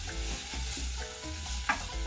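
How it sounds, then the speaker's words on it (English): Wooden spoon stirring and tossing white rice in a hot pan, with steady sizzling and soft repeated scraping strokes close up, no talk. "And then you can grab a wooden spoon and just toss it around"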